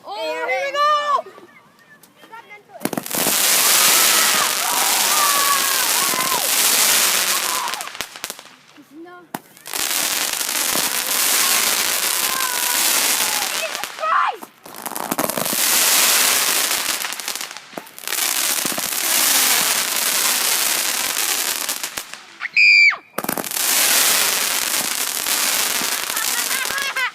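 A 100-shot consumer fireworks cake fires in long, dense bursts of rapid crackling shots, several loud volleys separated by brief pauses, close by and continuous through most of the stretch.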